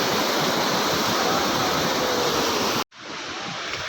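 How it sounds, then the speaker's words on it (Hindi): A fast-flowing mountain stream, swollen after a cloudburst on the Shrikhand Mahadev yatra route, roars as a loud, steady, dense rush of water close by, briefly cut off and then resuming slightly softer. "उस कारण पानी का फ्लो आज बहुत ज़्यादा है"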